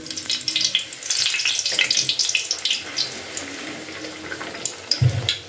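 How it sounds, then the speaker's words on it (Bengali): Kochuri, pea-stuffed breads, fry in hot oil with a loud, bubbling sizzle that crackles and surges unevenly, ending with a brief clunk near the close; no speech. "এবারে আস্তে আস্তে আমি কচুরিগুলোকে ভেজে নিচ্ছি"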